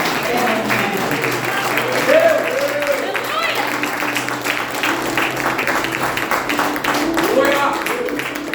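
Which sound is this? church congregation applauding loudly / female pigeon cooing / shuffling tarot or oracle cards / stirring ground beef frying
church congregation applauding loudly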